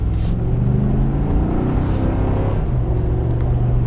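A Ford F250 pickup with 4.30 gears accelerates, heard from inside the cab as a deep, steady engine rumble with a faint rising drone, loud and continuous with no talk.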